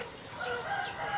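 Free-range village chickens being fed leftover rice in the morning, with short clucking and crowing-like calls rising over a quiet yard, fairly close and moderately faint.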